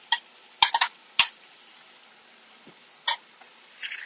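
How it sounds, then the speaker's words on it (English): Cooked onions tipped back into a pan for a gluten-free cheeseburger bowl, heard as a few brief, close scrapes and clinks of a utensil on the pan separated by quiet pauses, with no talking. "I'm gonna put these onions back in"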